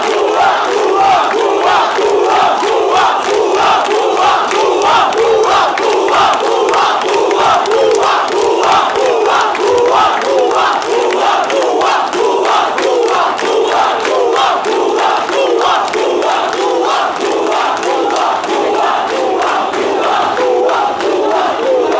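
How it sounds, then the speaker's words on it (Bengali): HSC exam students protesting at the education board in Chattogram chant slogans as a large crowd, loud and close, in a steady rhythmic call pattern that keeps going without pause. "দাবিগুলো নিয়ে তারা স্লোগান দিয়ে যাচ্ছেন"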